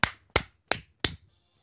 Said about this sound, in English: I am clapping way too much, and I apologize